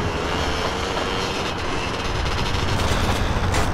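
A train rumbles past in GTA San Andreas, a loud, continuous broadband roar with steady mechanical rattle that swells slightly toward the end.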